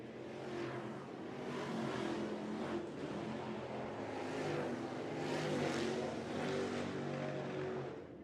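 Lucas Oil late model race cars roar around the track at Golden Isles, a dense, sustained engine drone that swells and fades in waves as cars pass, loud and continuous with no talk over it.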